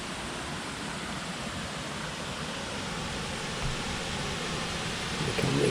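A woodland stream with little waterfalls in Worden Woodland, Leyland, gives a steady, soft, even rush of flowing water throughout, with no voices.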